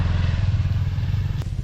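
A motorcycle, likely a KTM or Hero dirt bike, approaches on a heavily muddy academy training track, its engine a steady low drone rising in presence before a brief sharp clatter near the end.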